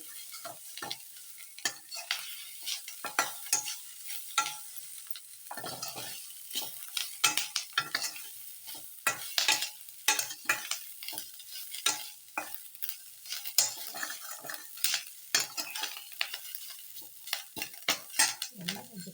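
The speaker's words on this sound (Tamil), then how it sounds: "கொஞ்சம் கரம் மசாலா தூள், மிளகாய்த்தூள் இதெல்லாம் போட்டு ஒரு நிமிஷம் வதக்கிட்டு" Spices like garam masala and chili powder sautéed in a pan for vegetable fried rice: a steady run of scraping spatula strokes at an irregular rhythm over a faint sizzle, close and fairly quiet.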